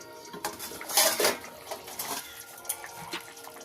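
A metal plate used as a lid is lifted off a pot of sea crab curry cooking with chillies. Close, sharp metallic clinks and scrapes ring out in a few bursts over faint kitchen background.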